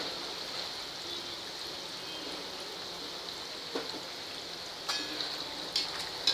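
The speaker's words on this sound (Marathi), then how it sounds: "आणि हे छान सोनेरी रंग येईपर्यंत तळून घ्यायचे आहेत आपल्याला." Sweet bhaji fritters with coconut deep fry in oil over medium heat, a soft steady bubbling hiss with a few sharper crackles and pops near the end.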